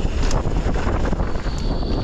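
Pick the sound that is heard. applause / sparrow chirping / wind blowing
wind blowing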